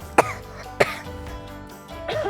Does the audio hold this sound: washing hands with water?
no